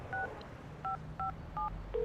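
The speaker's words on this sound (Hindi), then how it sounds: "मैं भी ठीठ की तरह बार बार कॉल मिलाने लगा।" Phone keypad dialing tones, several short two-note beeps in an uneven sequence as a number is entered, clear and close over a low hum.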